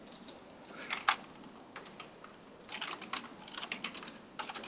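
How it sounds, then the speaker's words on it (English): Code being typed on a computer keyboard into an Excel formula: quick, light key clicks in irregular bursts with short pauses between them, close and fairly quiet, no voices. "we're going to type that in"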